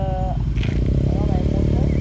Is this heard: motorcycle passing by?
yes